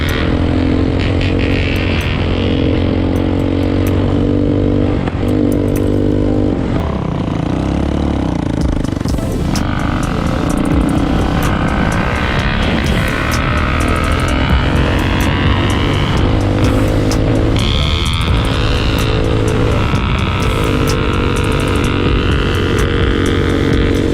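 A 2020 Bashan Storm 250 motorcycle ridden by a first-time rider, its engine droning loudly and continuously with rising and falling revs, close by throughout.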